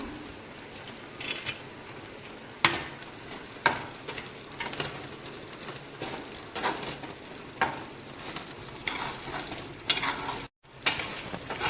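A sweet mixture flavoured with cardamom powder being stirred in a pan, with repeated scraping and clinking strokes of a spoon against the metal over a low steady bubbling hiss.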